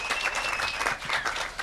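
A crowd of spectators applauds the 2022 Ironman World Champion triathlete Chelsea Sodaro, with dense, steady clapping throughout, a few cheers rising above it and a faint whistle-like tone.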